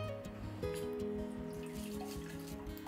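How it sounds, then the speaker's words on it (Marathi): Kokum water being poured through a strainer into a pot, a steady liquid splash and trickle running for a few seconds with a faint ringing metallic tone from the vessel. "आता हे बघा हे कोकमचं पाणी ओतलं या भांड्यामध्ये"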